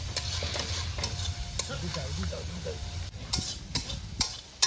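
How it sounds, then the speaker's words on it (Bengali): Spice paste for doi katla sautéing in a pan at an outdoor picnic, a soft steady sizzle under frequent scraping stirs and sharp utensil clicks against the pan. "মশলাটা খুব সুন্দর করে কষানো হয়ে গেছে।"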